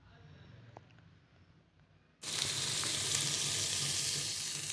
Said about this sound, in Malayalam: അപ്പോൾ ഇതിന് പതുക്കെ ഒന്ന് ഇളക്കി കൊടുക്കുക.